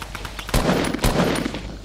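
Gunfire in Fortnite, a loud rapid burst of shots with two heavier blasts punctuating a dense rattling stream, close and continuous for about two seconds with no voices.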